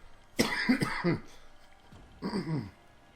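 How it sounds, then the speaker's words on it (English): A person clears their throat with a couple of quick, close coughs, then gives another short throat-clearing cough a moment later. The sounds are near and fairly quiet, with no talk. "that was a throat-clearing cough, not the other kind of cough"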